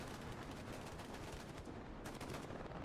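Sustained machine gun fire in an online multiplayer shooter match on a winter map, a dense continuous rattle of rapid shots filling the whole stretch with no voices over it.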